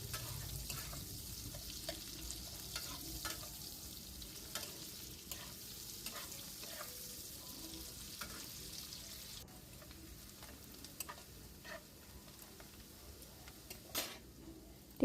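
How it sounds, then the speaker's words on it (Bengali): Chopped onions sizzle and fry in hot oil, stirred with a utensil that taps the pan at irregular intervals, a soft steady crackle close by with no one speaking. "এই পেঁয়াজটাকেও ভালো করে তেলের সাথে একটু নাড়াচাড়া করে ভেজে নেব।"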